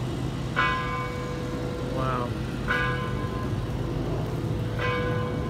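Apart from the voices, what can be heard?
bell ringing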